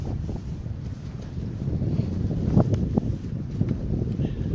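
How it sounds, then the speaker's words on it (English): Wind gusts across the microphone at a riverside state park on the Connecticut River, a loud, continuous rumbling buffet that swells and fades, with faint clicks underneath. "Having trouble hearing me because of the wind"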